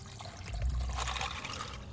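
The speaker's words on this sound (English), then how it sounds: "Add water." Water pours into a pot holding dry pasta, a close, steady gush and trickle that swells briefly and then runs on evenly.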